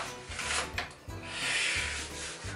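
Soft rubbing and pressing sounds of pizza dough being kneaded with the fist on a surface, with rhythmic muffled thumps and a dry rasping texture.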